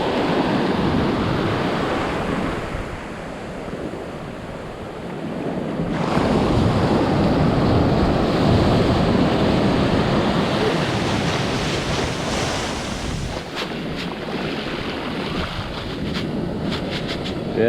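Ocean waves surge and wash steadily onto a sandy beach, a loud continuous roar of surf that swells and recedes with wind buffeting the microphone.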